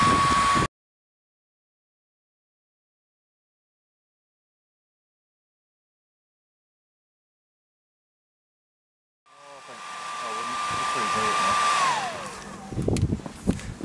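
A heat gun or hair dryer warming an HDMI converter on a drone gimbal setup, blowing with a steady airy whir that cuts off abruptly, then returns after a long silence and winds down.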